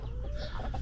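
Royal Cachuela Española laying hens cluck close by in a brief, continuous burst of soft clucks and murmurs over a steady low background.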